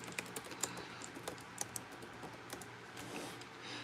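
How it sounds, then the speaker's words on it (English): Keys clatter on a computer keyboard in quick, irregular taps, a quiet close-up run of typing with brief pauses and no talking. "And gotta type that in."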